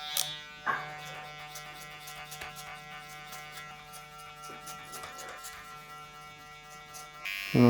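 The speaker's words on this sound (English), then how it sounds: "And onto a smaller comb and a trimmer." An electric hair trimmer buzzes steadily during a haircut and beard trim, a close, even mechanical hum with faint clicks as it works through the hair, then stops abruptly near the end.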